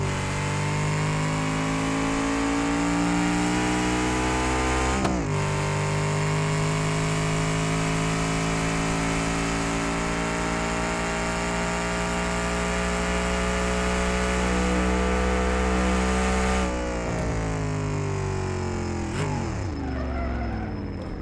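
A car engine in BeamNG.drive, fitted with extra-grip tires, runs loud and steady with a strong harmonic drone, rising and falling in pitch as it revs, with a sharp shift around five seconds and another drop near the end; no talking.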